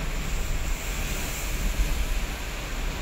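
Rough sea surf churns during a southwest monsoon, a constant wash of breaking waves mixed with wind buffeting, loud and steady without pauses or voices.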